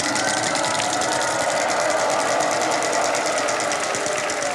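A game-show prize wheel on a Hindi television set spins with a rapid, even ratcheting click, loud and close, running steadily for several seconds without speech.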